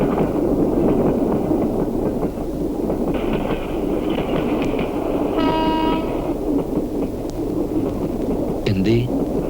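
A train runs at night, heard from inside the compartment as a steady low rumble and clatter under conversation, with a short tonal blast midway.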